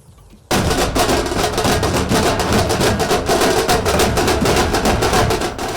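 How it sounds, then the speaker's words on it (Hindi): Dense, continuous crackling bursts of firecrackers erupt at an election victory celebration in Ahmedabad after a brief quiet start, loud and rapid with no pause, a steady barrage of overlapping pops. "जमकर आतिशबाजी हुई"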